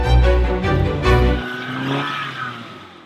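A wrecked MINI car drives through snow, its engine revving loudly and close while the tires spin and slip. The engine noise then drops away, leaving a fading, softer rumble.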